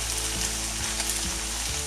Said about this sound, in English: Now I'm going to fry off the chopped onions.